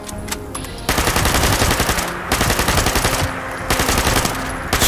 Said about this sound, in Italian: Sto mitra è fantastico, ma c'ha sto rinculo incredibile